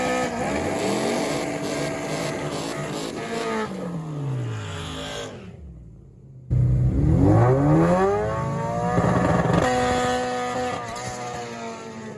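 Honda K24-powered race car on a drag pass, a loud engine howling up through the gears with rising pitch sweeps, a brief cut near the middle, then hard acceleration resuming and holding at high revs.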